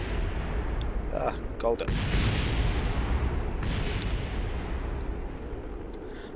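A loud, rumbling explosion roars as a spacecraft lander blows up during re-entry in a video game. A heavy blast fades into a long, rushing burn while a voice talks briefly over it.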